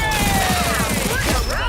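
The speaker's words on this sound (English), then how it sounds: "This gun has sound effects to it." Gun sound effects in Marvel Rivals, a dense fusillade of rapid shots with whooshing, sweeping effects, loud and close, mixed with faint voices in the background.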